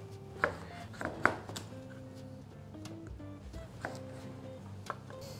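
Sweet potato cut into fry-sized pieces with a knife on a board: a series of crisp, irregular chopping knocks, close and moderately loud, over a low kitchen hum.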